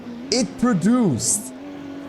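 A 1990s Ferrari with a 4.9-litre flat V12 howls through rising and falling revs in a few short bursts, loud and close, with someone talking over it.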